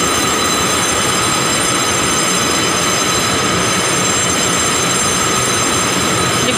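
A train rolls along a railway line in Taiwan with a dense, continuous rushing rumble and steady high-pitched whine, close and loud throughout with no voices.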